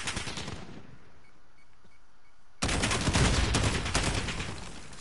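Gunfire in the video game Call of Duty Modern Warfare: a loud burst, a quieter gap, then a sudden dense barrage of rapid shots, close and sustained.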